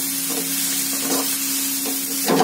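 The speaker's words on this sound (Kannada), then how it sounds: "ಈಗ ಸ್ವಲ್ಪ ಕೊತ್ತಂಬರಿ ಹಾಕೋತಿದ್ದೀನಿ ಮತ್ತೆ ಫ್ರೈ ಮಾಡ್ಕೊಳ್ಳಿ" Egg fried rice sizzling in a pan as coriander is added, a steady close frying hiss with a low electrical hum and faint stirring scrapes, swelling slightly louder at the end.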